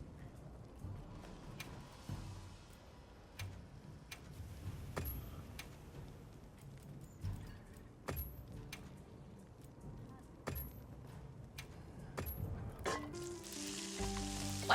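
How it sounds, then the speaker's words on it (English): Food sizzles and fries in a pan while a meal cooks in the Monster Hunter video game, a crackling hiss dotted with sharp clicks and ticks, ending in a short musical jingle. "Sizzling meal."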